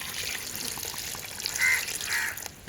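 Water runs from a tap in a kitchen while crab is washed before being broken for a Jaffna-style crab curry, a soft steady trickle with brief louder gushes.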